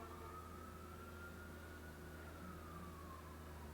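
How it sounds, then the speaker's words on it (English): Emergency vehicle sirens wail faintly in the distance beyond an open window, a thin rising and falling tone over a steady low background hum. "And now, of course, we've got sirens"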